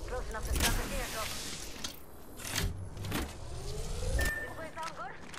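A vehicle drives in the video game Apex Legends, its steady engine rumble running beneath busy in-game effects and a voice talking over it.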